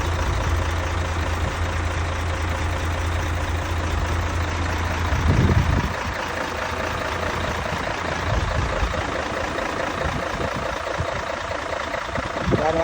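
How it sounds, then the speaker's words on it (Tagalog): A large cargo truck idles steadily with a deep low rumble throughout, a brief louder surge midway, and faint voices talking in the background. "Yan ang ating truck, guys, ano?"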